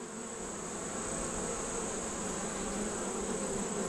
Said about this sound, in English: Good looking bees right there.